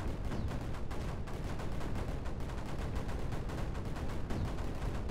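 Cannons fire in the alien-fluid defense game Creeper World 4, a dense, continuous barrage of overlapping blasts at a steady, moderate level with no pauses.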